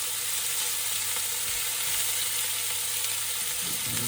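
Thinly sliced onions fry in a pan for a lamb vindaloo, giving a constant, loud sizzle with a dense hiss close up and no talking.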